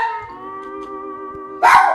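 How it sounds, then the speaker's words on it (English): Two household dogs howling in a long, steady, tonal wail that ends in a sudden louder bark, close by, with no talking. "Excuse my dogs. I have 2 dogs"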